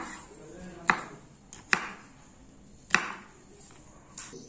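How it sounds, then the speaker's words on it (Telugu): A knife chops green capsicum on a cutting board for pizza topping, with three sharp board strikes plus a lighter fourth, spaced irregularly and close by over a quiet room. "ఇదిగోండి ఇప్పుడు గ్రీన్ క్యాప్సికమ్ కట్ చేస్తున్నాను"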